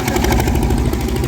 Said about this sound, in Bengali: এখন ট্রলারে চেপে সোজা রওনা দিচ্ছি